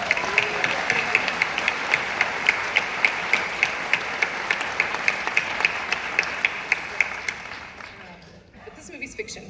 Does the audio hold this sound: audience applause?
yes